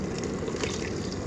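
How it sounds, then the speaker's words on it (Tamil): Water splashes and pours as a ground green paste is rinsed out and tipped into a pan for green chicken gravy, a brief steady gush at moderate level. "அப்படியே கழுவி ஊற்றிடுவோம்."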